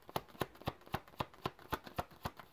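A tarot deck is shuffled and cards drawn by hand, a steady run of about a dozen crisp, close riffling snaps at an even quick rhythm with no talking.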